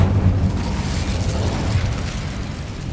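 An Incendio fire spell bursts in Hogwarts Legacy inside a cavern, a close, loud low whoosh that flares at the start and then settles into a rumbling, crackling roar before slowly fading.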